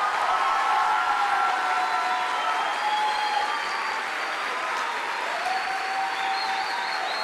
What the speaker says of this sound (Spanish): Le recibimos ya a esta pareja con un fuerte aplauso,